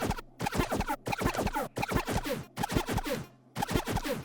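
A neuro screech synth patch built in Serum 2 with ring modulation and a high pass filter plays as a run of harsh, gritty rhythmic stabs in short bursts separated by brief gaps, loud and alone.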